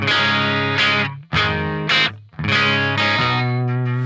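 A bright, treble-boosted electric guitar through a Line 6 Helix rings out sustained chords and notes, with a couple of short breaks between phrases and no speech.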